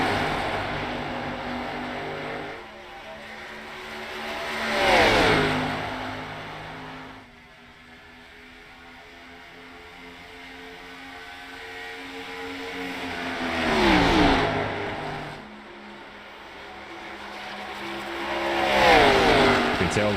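Race car engines in the iRacing simulation of an Xfinity Series race, with three loud passes that swell and fade as the cars roar by at speed on a long green flag run, with steady engine drone between them.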